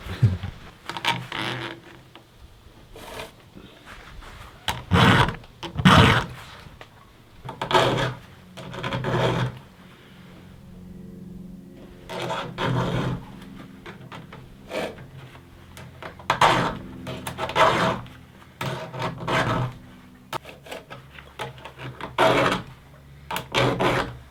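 A file rasps against a chainsaw chain in repeated short strokes, bursts of scraping separated by brief pauses, close and distinct.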